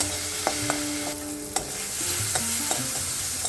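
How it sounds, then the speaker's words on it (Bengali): Tomatoes softening in a little mustard oil in a pan, a continuous gentle sizzle with scattered clinks and scrapes of a stirring utensil, close by and with no talking. "অল্প একটু সর্ষের তেল অ্যাড করে দিলাম, দিয়ে টমেটোটাকে নরম করে ভেজে নেব"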